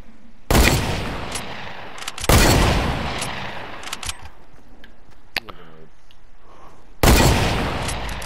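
Hunting rifle gunfire in Fortnite's Wild West mode: three loud, sharp shots with long ringing tails, spaced a couple of seconds apart, with quieter game noise and some speech between them.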